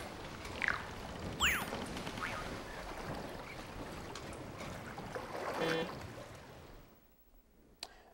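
Boat moving across Sydney Harbour, with a steady wash of water and engine rumble throughout, faint bird calls and a few brief squeaks over it, before the sound fades out near the end.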